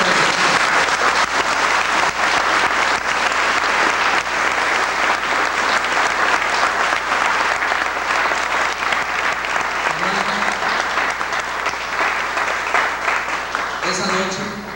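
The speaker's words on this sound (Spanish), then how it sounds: "yo quiero un aplauso" An audience in a church applauds, a dense, loud and continuous clapping that fills the whole stretch, with some voices mixed in.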